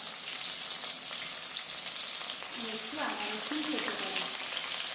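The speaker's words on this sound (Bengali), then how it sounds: "দিলাম টমেটো, পেঁয়াজ, আর একটু আদা রসুন থেতো করা" Tomato, onion and crushed ginger-garlic sizzle steadily in a hot pan for a steamed fish dish, a continuous frying hiss with soft stirring scrapes, close and fairly loud, with no talk over it.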